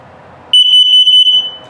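A piercing, high electronic carbon monoxide alarm test tone in a 2022 Flagstaff Super Lite 27FBIK camper sounds close and loud for under a second, pulsing slightly, between stretches of quiet background noise.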